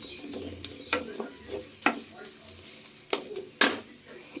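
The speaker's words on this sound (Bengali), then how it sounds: "দিয়ে আবার একটু নাড়াচাড়া করতে হবে" Turmeric and cumin powder being stirred in a pan for potato curry, with a soft sizzle and intermittent scraping clinks of a spoon against the pan, a few sharp knocks standing out, close and moderately quiet.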